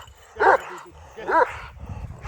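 Young Kangal dogs bark twice, two short separate barks close by, with low rumbling background noise between them.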